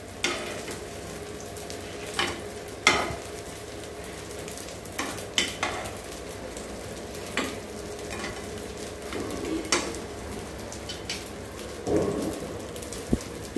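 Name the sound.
idli frying in a pan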